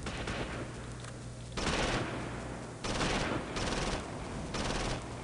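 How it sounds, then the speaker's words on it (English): Gunfire in Close Combat: Invasion Normandy as Allied troops hit the beaches. Dense bursts of automatic fire and rifle shots crackle in repeated loud volleys, with lower-level shooting in between. "but I might as well shoot them"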